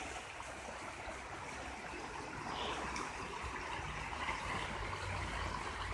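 High water rushing along a stream after rain, a steady broadband roar that holds constant and swells slightly midway, heard alone from nearby.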